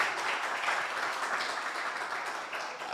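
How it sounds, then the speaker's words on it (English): Applause from a conference audience, a dense, steady wash of many hands clapping that holds at an even level for about three seconds, with no talking over it. "I think they deserve a louder round of applause."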